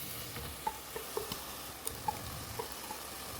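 Tomato added to frying methi (fenugreek leaves) in a pan, a soft continuous sizzle with occasional small pops and spatula stirring clicks, quiet and close.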